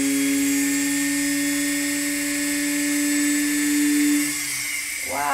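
A power drill running steadily as it bores a hole that resists the bit, a close, continuous tonal whine that holds for about four seconds and then sags and shifts pitch near the end.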